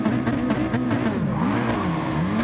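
Engines of Group B and Group 4 rally cars in a racing video game drone and rise in pitch together as they pull away from a race start, a dense, continuous roar with wavering tones throughout.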